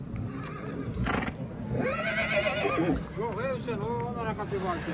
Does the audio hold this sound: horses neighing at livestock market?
yes